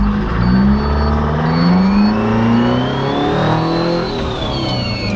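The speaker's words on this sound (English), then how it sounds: "This thing is shockingly loud." A 1949 Ford F7 truck fitted with a Detroit Diesel engine roars loudly up through the gears, its pitch climbing, dropping and climbing again with each shift. The engine note stays close and steady, and no one speaks over it.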